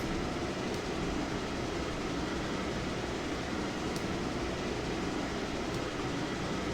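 A train rolls on in the railroad simulation game Railroader, a dense, even rumble of wheels and cars at steady volume, with a few faint clicks and no voices.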